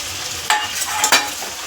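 Green chilies and a whole tomato fry in a pan with chicken, a spoon scraping and stirring in two or three quick, close strokes over a constant sizzle.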